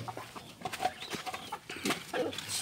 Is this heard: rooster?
yes